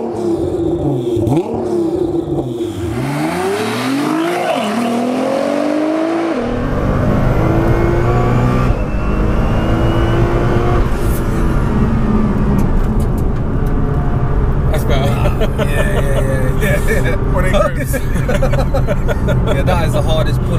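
A tuned 1000 bhp Nissan GT-R engine revs and pulls hard, its pitch climbing through the gears, heard loud from inside the car while people talk briefly.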